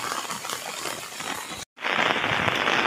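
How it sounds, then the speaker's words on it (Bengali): Heavy monsoon rain in a flooded Sundarbans village, a steady broadband wash of downpour that cuts out briefly for a moment and then resumes slightly brighter and denser. "যা বৃষ্টি হচ্ছে আজকেরই সব ডুবিয়ে দেবে এরকমই মনে হচ্ছে"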